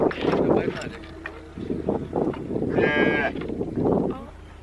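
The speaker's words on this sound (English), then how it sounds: "there's more cows in here" Cows mooing inside a village animal shed, several low drawn-out calls rising and falling close by, with people talking over and between them.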